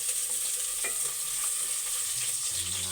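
Onion sautéed in a pan with garlic and ginger for a bottle gourd stir-fry, giving a steady close sizzle of hot oil with faint scrapes of stirring throughout, no talking.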